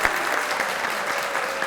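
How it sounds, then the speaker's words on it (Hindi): A studio audience at a poetry show claps steadily and fairly close, a continuous burst of applause with no voices over it. "बहुत सारी तालियां हो जाए।"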